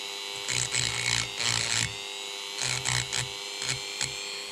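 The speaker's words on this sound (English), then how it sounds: "So I've got a Dremel with abrasive wheel" A Dremel rotary tool fitted with an abrasive wheel grinds at a damaged piston from an Aprilia RS4 125 engine, sounding as several short, close, high-pitched whirring bursts with brief pauses between them.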